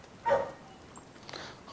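A Kangal dog gives a single short bark, followed a second later by a softer second vocalization, both faint and a little distant against quiet outdoor background.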